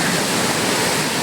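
Swollen monsoon river in the Hongu Khola area rushing hard, a loud, unbroken broadband roar of churning water filling the whole moment with no break.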